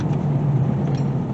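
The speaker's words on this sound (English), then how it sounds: "The power steering pump makes all kinds of god-awful racket." Engine of a 2000 Dodge Durango running with a noisy power steering pump, a steady mid-pitched hum with a rattly racket layered over it, close and continuous, no talking.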